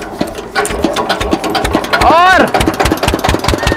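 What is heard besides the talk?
sugarcane crusher machine engine starting and running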